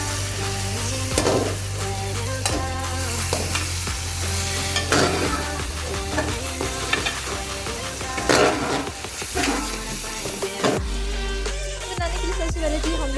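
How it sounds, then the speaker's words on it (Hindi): Chicken biryani with half a cup of yogurt being stirred in a pot after browned onions and chicken, giving a steady close sizzle and frying hiss with scraping and stirring clatter throughout, no talk. "तो हम इसको इस तरह से हिलाएंगे"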